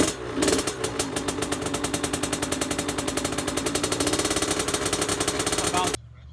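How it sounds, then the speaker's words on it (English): A Kawasaki KX dirt bike, freshly rebuilt top end, fires up on its first start and revs with a rapid, loud, rattling pulse that runs steadily for several seconds before cutting off abruptly. "that was the first kick, or the first start of the KX after the top end"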